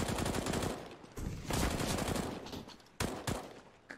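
Sharp gunshots ring out in a CS:GO professional match between Liquid and NiP, several loud cracks with echoing tails that fade between shots.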